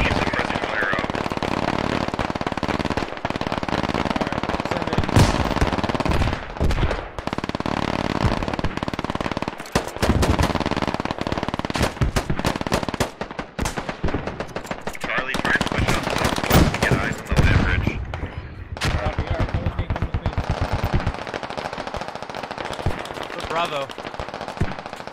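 Machine gun fire in the military shooter game Squad comes in rapid, loud bursts, with repeated volleys and scattered single shots over a constant battlefield din. A player's voice talks over parts of the gunfire.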